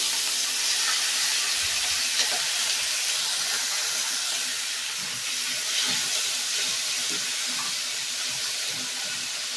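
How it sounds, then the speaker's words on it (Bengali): Shrimp fry in hot oil, giving a broad, steady hiss close to the pan, with a few soft bumps underneath and no voices over it. "সব চিংড়ি মাছগুলোকে আমি তেলের ওপরে দিয়ে দেবো।"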